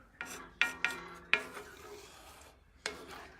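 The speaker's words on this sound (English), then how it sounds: "And then stir in the heavy cream." Heavy cream is stirred into a sausage orzo skillet, a spoon scraping and clinking against the pan in several sharp strokes with wet stirring between, close and without talk.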